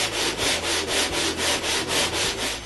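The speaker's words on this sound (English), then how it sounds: "I sand the box on a glass plate, so all the panels are equal." A wooden box, one of a pair of handmade cremation urns, is sanded flush on a glass plate, giving a steady rhythmic scrubbing with about nine even back-and-forth strokes, close and loud with no talk.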